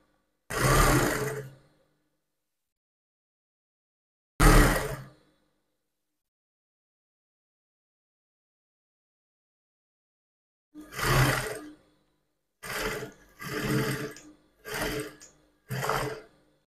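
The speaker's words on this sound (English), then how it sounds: "Now I just want you to see the sewing process." A sewing machine stitches a skirt facing to the main skirt in short bursts: two isolated runs near the start, then a quicker cluster of five brief runs, separated by silent pauses.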